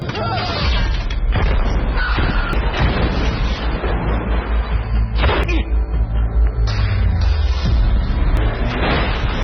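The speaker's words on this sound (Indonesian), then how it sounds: "Mereka pun saling beradu tembakan." Loud bursts of gunfire and heavy booming bomb explosions in a Kowloon tunnel in an Andy Lau film fill the scene, dense and dramatic, with a voice speaking over the action.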